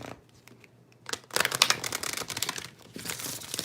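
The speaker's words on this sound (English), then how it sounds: "I'm going to shuffle 2 more times and then cut the deck." A tarot card deck is shuffled at close range. After a second of near quiet, quick papery riffles and crisp flutters of cards burst out and continue in dense, uneven waves to the end, with no voice.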